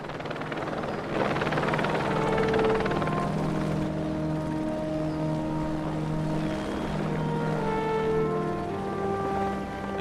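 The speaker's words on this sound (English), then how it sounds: "Then the helicopter kind of flies overhead," A rescue helicopter passes overhead with a steady, loud rotor thrum and engine whine that hold throughout, with rising tonal hums and no voices heard.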